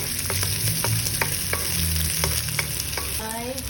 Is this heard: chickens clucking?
no